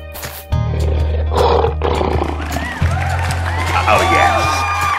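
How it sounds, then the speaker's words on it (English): A lion gives a deep, heavy roar that rises loud and holds, then a second roar follows amid bright swooping effects and crowd-like cheering, close and dominant. "Lion."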